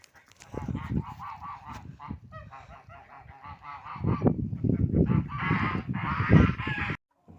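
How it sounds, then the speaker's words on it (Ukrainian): Geese honk repeatedly and loudly, a noisy overlapping chorus of harsh calls from a nearby flock, rising in intensity toward the end. "Подивіться, гуси."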